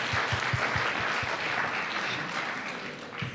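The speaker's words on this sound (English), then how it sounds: "I just sort of want to give a round of applause." A round of applause from a lecture audience in a church, dense steady clapping filling the room for a few seconds with no talking over it.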